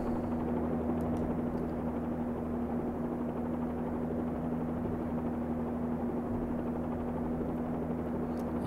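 A Bell 47G-2A1 helicopter in the X-Plane 11 flight simulator gives a steady, droning rotor and engine hum that holds at an even level throughout, with no talking.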